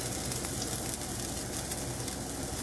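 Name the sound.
meatballs frying in a pan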